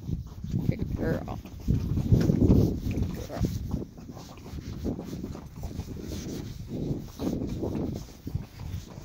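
A horse's hooves walk over a rock bridge on a trail ride, with irregular muffled steps and shuffling close by, mixed with breathing and handling noise.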